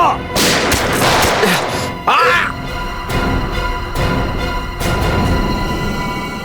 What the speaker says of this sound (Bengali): সিআইডি অফিসারকে গুলি করে দিলি?